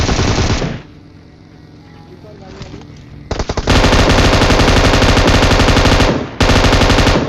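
Rapid, loud bursts of M249 machine gun fire in the PUBG battle royale game, with sustained automatic volleys, a brief lull, then more heavy firing close by.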